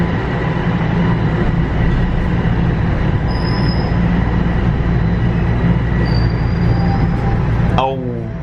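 Toronto TTC subway train wheels squealing loudly and steadily on the rails, with a sharp high screech rising near the end as the train moves through the station; faint voices sit under the rumble.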